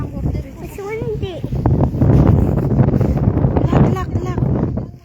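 Strong wind buffeting a phone microphone outdoors at a New Year gathering, a loud continuous roar and rumble while people talk over it.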